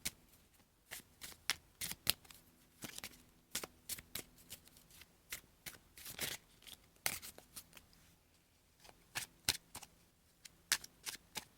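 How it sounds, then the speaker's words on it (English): Tarot cards are shuffled by hand in quiet, with a long run of crisp riffling snaps and flicks at an uneven, busy rhythm, close and fairly soft. "let's shuffle up some extra cards for love for Gemini"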